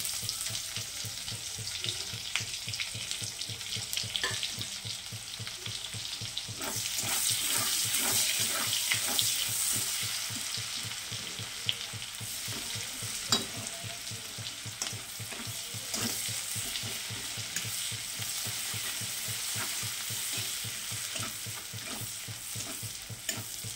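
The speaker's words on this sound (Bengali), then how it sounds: "এই তেলে এখন পেঁয়াজ দিয়ে দিব।" Onions fry in oil left over from frying egg and potato, with a continuous sizzle and repeated stirring scrapes, loudest in the middle stretch, and no one speaking.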